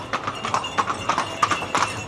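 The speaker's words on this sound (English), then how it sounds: "Again, as I was saying previously, there's the horses." Horses clip-clop along a street in the Sunny Beach resort in Bulgaria, a steady run of hoof strikes close by with a light street hum behind them.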